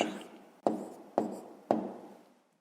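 A pen writes fractions by hand on paper: four short scratchy strokes, each starting sharply and fading, spaced about half a second apart. The sound is close and quiet, with no talking.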